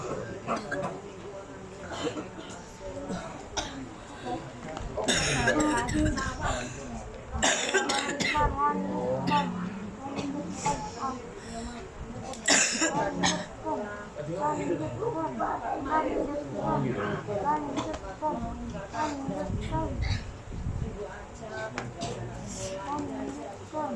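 Several people cough and clear their throats repeatedly amid ongoing talk in a room.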